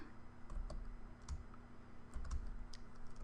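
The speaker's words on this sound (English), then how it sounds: "Let me type it out." Soft, sparse keystrokes on a computer keyboard as a spreadsheet formula is typed, a few quick clicks at a time with short pauses, close and quiet over faint room hum.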